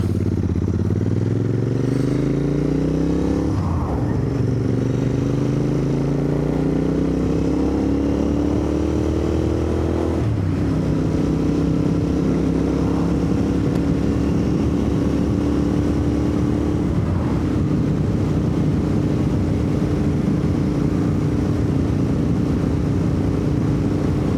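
A Royal Enfield Interceptor 650 motorcycle rides along a road, its engine droning loudly and continuously with rising pitch through several gear changes, plus wind rumble, no talk.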